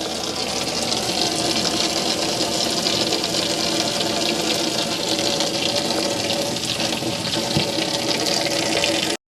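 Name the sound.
caravan shower running water to test water pump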